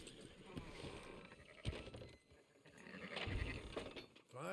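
Sheep bleating in the Western video game Red Dead Redemption 2, faint and blended into a dense mix of outdoor ambience and murmuring voices, with a few short bleats rising briefly above the bed.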